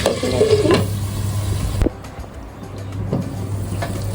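Beef fried rice frying and being stirred in a pan, a steady close sizzle with scraping strokes of the spatula, the sizzle dropping quieter partway through.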